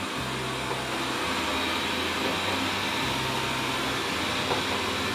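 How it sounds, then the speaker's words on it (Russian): A Xiaomi Mijia LDS robot vacuum cleaner runs on a tabletop, giving off a continuous whirring hum with a faint motor drone underneath. It stays close and steady throughout, with no speech. "Как видите, пылесос не падает"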